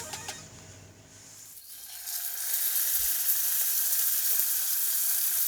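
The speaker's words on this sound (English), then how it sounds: "You gotta get that sizzle. When you put that steak in the pan" A quiet start gives way to a loud, steady sizzle of ribeye steak frying in a hot pan, building after a couple of seconds and holding.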